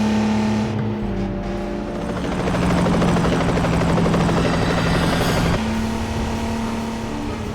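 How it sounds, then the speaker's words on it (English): A helicopter in the PlayStation 2 game 007 Agent Under Fire thunders with a steady, loud rotor and engine drone that swells in the middle alongside a vehicle engine's roar, with no talking. "Watch out for that helicopter!"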